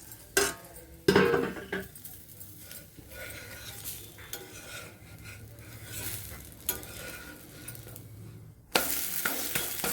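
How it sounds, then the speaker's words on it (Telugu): Instant rice flour dosa cooking in a pan with a little oil, a low steady sizzle broken by occasional louder clatters of a spatula or utensil against the pan. "ఇటు కూడా ఒక 2 minutes ఫ్రై అయిపోతే మన ఏమనాలి దీన్ని, ఇన్స్టంట్ బియ్యం పిండి దోశ రెడీ."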